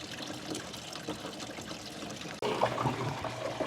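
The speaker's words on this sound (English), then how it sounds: "I will open this up a little bit to allow some water to flow out that way." Water runs out of a self-refilling hydroponic system as a valve is eased open. It makes a steady, close trickle that swells into a fuller, splashier flow partway through.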